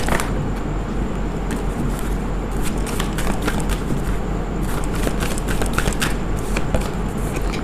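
Tarot cards being shuffled and drawn, a continuous close rustle and flutter with rapid papery snaps, dense and fairly loud throughout.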